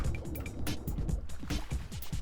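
In the video game Trailmakers, a car goes down into the ocean with a short burst of close, sloshing, bubbling water and quick splashy pulses, fairly quiet and with no talking.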